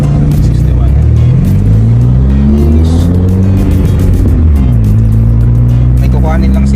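Car driving along an expressway in Bulacan, Philippines, steady loud engine and road noise throughout with rising and falling engine tones as it accelerates, people talking over it inside the cabin.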